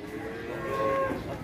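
A calf or cow moos once, in a drawn-out, moderately loud, tonal call, at a cattle market in Gondanglegi, Malang, East Java, against a low background murmur.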